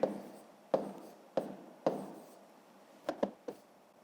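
Handwriting the number 273 during a fifth-grade maths exercise, a series of short, close scratching pen strokes with quiet gaps, ending in a quicker cluster of taps.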